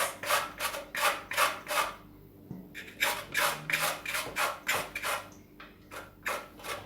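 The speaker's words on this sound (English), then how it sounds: "I am going to use this section right here of the grater to shred the carrots." Carrots are rubbed against a grater to shred them for Jamaican steamed cabbage, a steady close rasping stroke repeated in a quick rhythm with a brief pause partway through.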